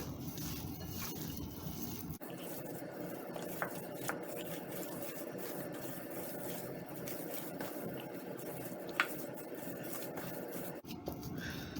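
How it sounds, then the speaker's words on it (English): A spoon scrapes and stirs dough made with corn flour, onion powder and spices in a bowl, faint and continuous with soft clinks against the bowl. "And then we'll combine the whole dough."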